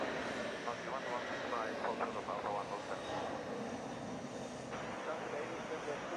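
An airplane engine hums steadily at JFK International Airport, heard from the TWA Hotel with a distant broad roar throughout and faint talk mixed in.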